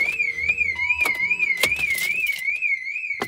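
Car alarm of a 2001 BMW 740iL (E38 7 Series), set off by turning the key in the ignition with the window down: a loud, steady warbling siren tone sweeping up and down, with a few sharp clicks and knocks over it.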